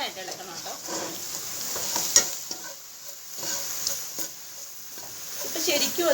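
Masala being stirred into a simmering gravy for Kerala-style chicken curry, with soft scraping strokes and a gentle sizzle from the pan, a few sharper clinks of the spoon, moderately close and without talk.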